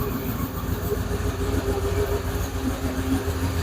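A hemi-engined Plymouth Duster runs steadily, its engine drone carrying a faint whine from a noisy alternator, heard close and continuous without talk.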